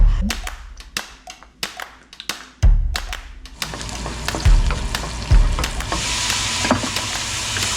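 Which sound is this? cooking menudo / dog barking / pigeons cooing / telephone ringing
cooking menudo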